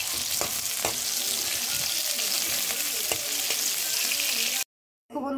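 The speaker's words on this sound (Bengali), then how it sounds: "এখানে আমার সয়াবিনটা ফ্রাই হচ্ছে।" Soybean chunks fry in a pan with steady, close sizzling and occasional crackles from stirring. The sizzle runs continuously with no talk, then cuts off abruptly near the end before a brief return.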